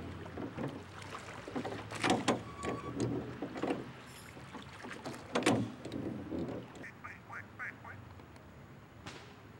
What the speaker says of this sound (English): I'm still rowing.